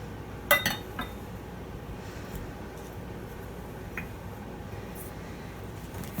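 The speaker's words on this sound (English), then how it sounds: "I have this milk glass container with some faux boxwood, I think, in it." A milk glass container holding faux boxwood is handled, giving a couple of sharp glassy clinks near the start and a faint tap after, then near silence.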